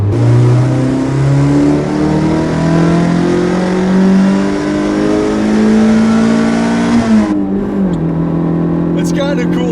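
A 1986 Toyota MR2 engine revs hard and climbs steadily in pitch through the gears, loud and close, with a brief drop at each shift and the strain easing near the end.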